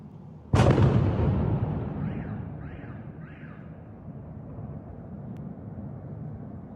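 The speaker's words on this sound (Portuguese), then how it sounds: "Moradores locais compartilharam vídeos perturbadores nas redes sociais, mostrando explosões poderosas em Odessa" One powerful explosion during a Russian night attack on Odessa booms suddenly and loudly, then rumbles away over several seconds while fainter distant sounds follow.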